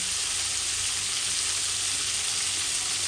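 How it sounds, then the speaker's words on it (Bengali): Pointed gourd fries in plenty of oil under a lid, a dense, even hiss of frying that stays steady and fairly loud throughout, with no speech. "তো এটাকে আমি ঢাকা দিয়ে ভাজবো, কারণ কি অনেকটা তেল তুলে হচ্ছে"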